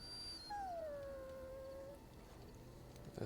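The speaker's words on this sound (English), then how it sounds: "That sounds like our dog." A dog in the fantasy role-playing game Dragon Age: Origins gives one drawn-out howl that slides downward and trails off, moderately loud over a low ambient hum.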